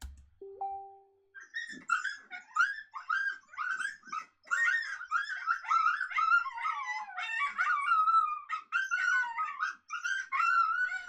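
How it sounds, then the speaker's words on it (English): A coyote vocalization from a predator-call sound pack: a brief low tone, then a long series of high, wavering yips and howls, rapid and closely spaced, loud and alone against silence. "This is another really great unique coyote vocalization."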